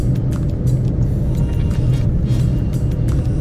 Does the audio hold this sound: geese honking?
no